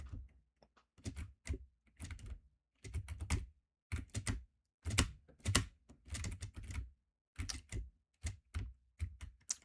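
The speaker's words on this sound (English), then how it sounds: "My keyboard is like right next to my mic." A computer keyboard sits right beside the microphone while someone types in bursts of rapid, loud, close clacking keystrokes. Short silent pauses separate the bursts.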